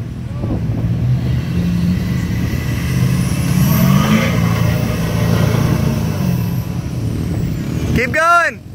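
An RV engine revs steadily while backing up on sand, a loud continuous drone that swells mid-clip before a brief hiss like an air brake near the end.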